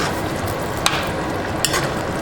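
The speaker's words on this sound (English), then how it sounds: "I like to add my shrimp at this point." Shrimp cooking in a pot of Haitian djon-djon rice, a steady loud frying sizzle throughout with two brief sharp clicks of a utensil against the pot, no voices.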